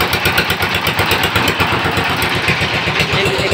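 A trawler boat engine runs steadily in a steady, loud mechanical chug with regular rhythmic pulses throughout, close by on a Sundarbans canal during a rescue effort.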